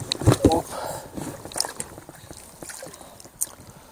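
Water splashes and sloshes as a fishing boat shoves off on the Seym River, with knocking and scraping against the hull and people talking nearby.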